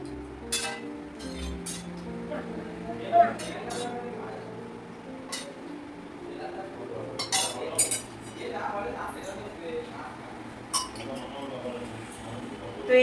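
Rice is served onto a plate for a schoolgirl's meal in a home kitchen. A spoon clinks and scrapes against metal dishes in scattered, close taps, with household hum and occasional voices in the background.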